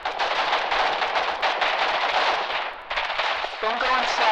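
Dense, continuous gunfire rattles through a war video game battle, rapid overlapping shots and heavier blasts blending into a loud, unbroken barrage with a short dip near the end.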